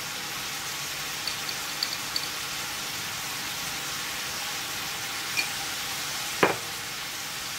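Turmeric goes into masala frying in a pan, a steady soft sizzling hiss with a few faint ticks and one brief louder scrape near the end.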